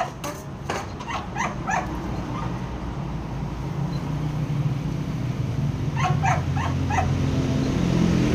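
Several dogs bark in short bursts, a cluster early on and another near the end, over a steady low rumble of background noise.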